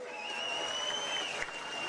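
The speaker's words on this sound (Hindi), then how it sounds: "एक बारी होर जोरदार तालियां मारो जी" Brief, fairly faint crowd clapping at an outdoor election campaign rally in Pathankot, a soft wash of applause with a steady tone running over it.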